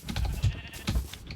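Sheep in the video game Minecraft bleat twice in quick succession at moderate volume, short wavering calls over a quiet background with a few soft game noises.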